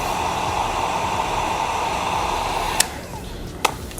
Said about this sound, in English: So grab your heat gun.